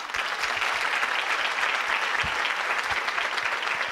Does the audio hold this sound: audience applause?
yes